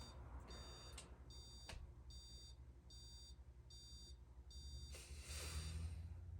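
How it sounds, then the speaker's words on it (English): Repeated bursts of high electronic beeps from computer monitors in a steady on-off rhythm over a low hum, a brighter rising tone near the end as the monitors power down. "the monitors are beeping as they're turning off."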